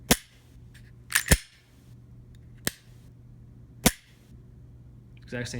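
Several sharp mechanical clicks from a Glock 43 pistol trigger being pulled and released, irregularly spaced over a quiet background with a low hum.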